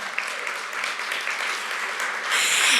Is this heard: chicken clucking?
no